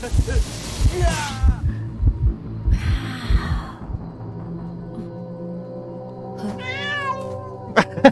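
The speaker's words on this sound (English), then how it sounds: "the stupid cat." Cat meowing in the Identity V video game, a few short meows rising over a steady low game hum and throbbing background music, with a louder burst of cries near the end.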